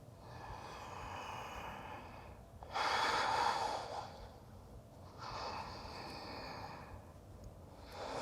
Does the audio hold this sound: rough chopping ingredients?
no